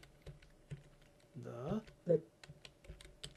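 Typing on a computer keyboard with a talking word processor, light scattered key taps under a voice speaking in the middle.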